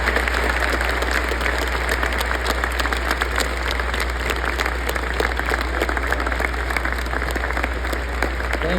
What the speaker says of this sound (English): Graduates, can you please give a round of applause to our heroes?